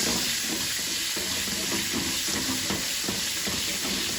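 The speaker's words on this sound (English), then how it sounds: "The fennel seeds will toast up in the pan and you'll get a much deeper flavor from it." Fennel seeds toast in a pan of hot fat while duck confit is being made, giving a steady close sizzle with soft scraping stir sounds and faint tap-like clinks throughout, no voices.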